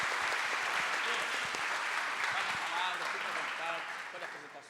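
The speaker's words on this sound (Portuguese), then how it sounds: "Você pode aplaudir a Deus pela vida desse servo do Senhor." A church congregation applauds during a worship service, sustained crowd clapping with a few voices beneath it, fading toward the end.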